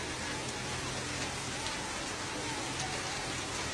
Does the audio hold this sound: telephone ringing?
no